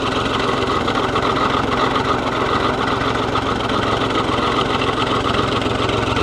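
A 1940s Allis-Chalmers bulldozer engine idles close by, a steady, even mechanical rumble with a fast regular chug that holds constant for the whole stretch without revving.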